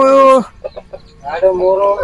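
A rooster at a poultry farm crows loudly and close by, with a strong drawn-out call, a short pause filled with a few soft clucks, then a second crow starting up.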